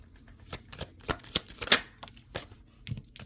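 Tarot cards shuffled by hand in a quick series of crisp riffling bursts, close and fairly loud, with short pauses between the flurries and no talking.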